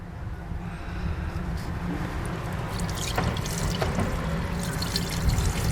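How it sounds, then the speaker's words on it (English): Coolant poured into the radiator of a 2001 Dodge Caravan with a 3.3L V6, a steady gurgling liquid stream over a constant low rumble, running continuously at moderate loudness with no talking. "Add coolant."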